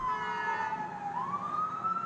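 An ambulance siren wails on a street, a single sustained tone slowly falling then rising again, loud and clear over low traffic rumble.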